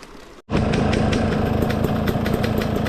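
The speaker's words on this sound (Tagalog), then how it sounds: "Namamatay talaga yung motor." An enduro motorcycle engine idles loudly and close after a brief drop in sound near the start, holding a steady rough rumble with a regular pulsing beat.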